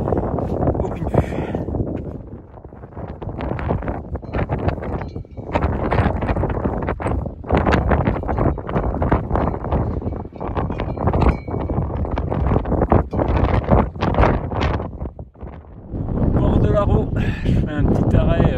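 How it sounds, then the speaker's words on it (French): Heavy wind of 40-60 km/h on a misty Pyrenees mountain ridge buffets the microphone in loud roaring gusts that rise and drop off briefly, blasting almost continuously throughout. "Il y a 40-60 km/h de vent établi."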